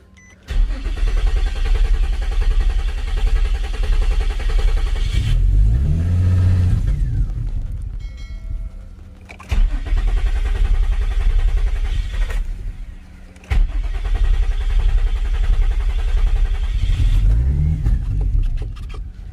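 A car with a crankshaft fault code cranks and starts after a new throttle body is installed, then runs loud and steady close by; two further cranking bursts catch into the same rumbling idle, with no talk.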